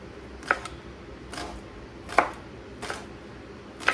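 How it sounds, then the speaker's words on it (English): Garlic cloves being chopped with a knife on a cutting board, five separate crisp knife strikes spaced unevenly, close and clear over a quiet kitchen background. "just give them a nice little chop"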